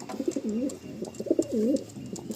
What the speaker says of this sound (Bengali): পায়রাগুলো কতটা অ্যাক্টিভ দেখুন